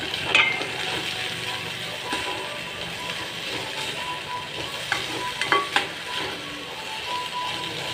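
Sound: grated coconut and fennel being sautéed in oil

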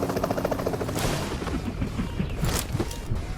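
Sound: helicopters in PUBG video game

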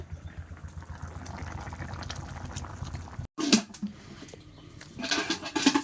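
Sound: rice boiling in a pot

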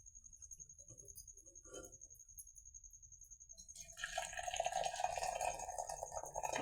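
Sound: draining water from boiled greens

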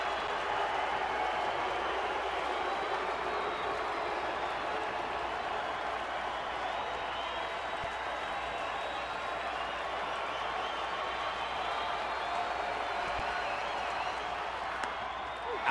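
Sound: baseball crowd cheering and applauding in the stadium

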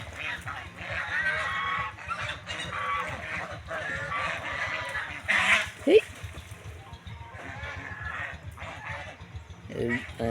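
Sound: ducks quacking in a village

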